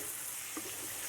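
Dry spice powders, roasted cumin, fennel and garam masala, stirred into onions frying in a pan, a quiet steady sizzle with a soft stirring scrape midway and no speech.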